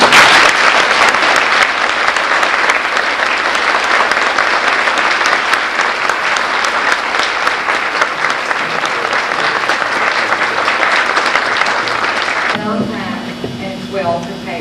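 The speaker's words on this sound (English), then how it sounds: "I think we deserve a round of applause." A school audience at a 1993 Liberty Elementary fifth grade graduation ceremony bursts into loud, sustained applause that fills the room, then tapers as a voice and a faint tone come in near the end.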